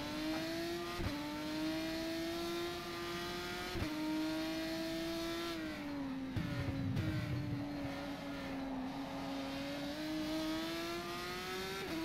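GP3 single-seater race car lapping the Algarve circuit in the rFactor 2 sim, its high engine whine holding steady with brief drops at gear shifts and a short lift, continuous and close, no talk.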